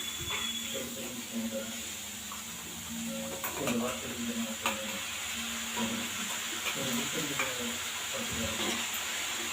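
Paste of ground mint, coriander, ginger, garlic and green chilli is stirred into cabbage frying in a pan, a steady close sizzle with scraping stir strokes and faint voices underneath.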